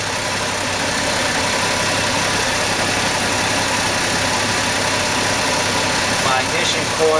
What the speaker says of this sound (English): I ran the engine up to temperature.